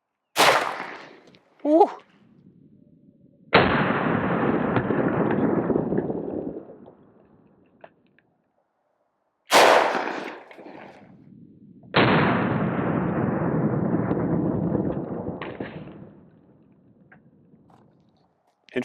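Two loud gunshots from .45 Super 185-grain hollow point rounds fired into ballistic gel, each a sharp crack followed by a long rolling echo, spaced several seconds apart, with a brief exclaimed voice between them.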